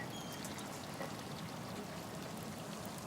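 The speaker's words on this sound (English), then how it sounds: "Sounds like water. Like a burst pipe or something." Steady rushing water like a burst pipe fills the background, a faint continuous hiss and trickle with no break and no talking.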